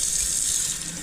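Tap water runs into a pot of black cherries, a close, steady hissing splash that lasts about a second.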